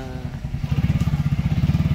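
Motorcycle engine running close by as the bike is moved into shelter beside a house, a loud, steady, rapid low putter with a few thumps at the start.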